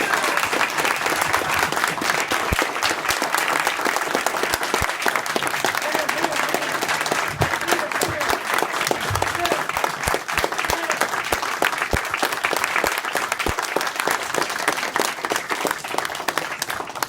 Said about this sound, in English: I'd like to ask for a round of applause to honor Inga and the third USCT.